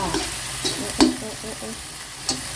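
Clams stir-fried with curry chili paste in a pot give a soft, steady sizzle, with a few sharp scrapes and clatters as the food is stirred briskly.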